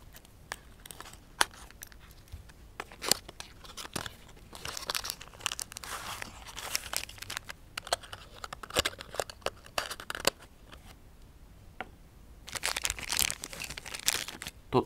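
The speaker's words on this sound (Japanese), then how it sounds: "それでは開封していきます。" Plastic and paper packaging being opened on a Tomica die-cast toy car, a Lamborghini Aventador LP 700-4 in Dubai police livery, with close, irregular crinkling, tearing and crunching that runs on and off throughout, and no talking.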